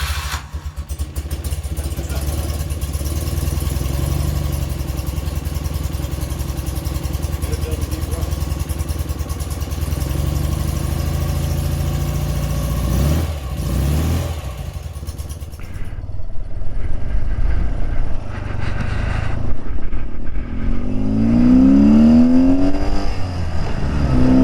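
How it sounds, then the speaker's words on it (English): A 1978 BMW R80/7 motorcycle engine runs loud and steady nearby, with a continuous rumbling idle, then a shift in tone as it revs and pulls away toward the end. "by gosh, the bike runs great."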